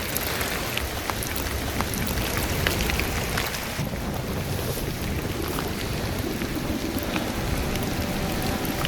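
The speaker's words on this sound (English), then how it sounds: "rain is kind of a necessary evil here in coastal BC" Rain falls steadily in a coastal British Columbia forest at a trail-building site, a dense continuous hiss of drops close around, with no voices.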